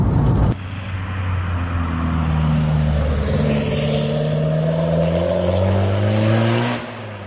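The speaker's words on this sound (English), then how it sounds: "this straight piped exhaust note, has got this sort of the whistle from the turbo" A straight-piped hot hatch from among a Ford Fiesta ST150, Renault Clio 182 and Skoda Fabia vRS drones loudly under acceleration, with rising engine tones and a turbo whistle, close and continuous before easing off.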